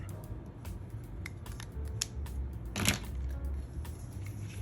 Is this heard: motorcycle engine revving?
no